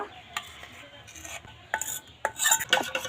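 Orange peel paste is stirred into melted soap base in a pot. A utensil gives irregular scraping and clinking knocks against the metal, sparse at first and then busier and louder toward the end, with no talking.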